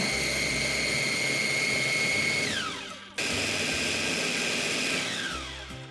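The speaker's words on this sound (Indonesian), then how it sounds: "semua bumbu yang tadi udah dimasukkan ke blender kita haluskan sampai halus ya" A kitchen blender grinds spices and onions into a paste, running loud and steady as a high motor whine, cutting out briefly near the middle, then starting up again.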